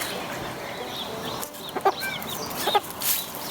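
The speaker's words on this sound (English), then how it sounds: "We have a couple of Chinese silkies." Chinese Silkie chickens and a chick cluck and chirp softly in short bursts over a steady background hiss, with a few brief louder calls near the end.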